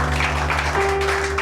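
A church congregation claps continuously and fairly loudly, with a sustained musical tone holding underneath.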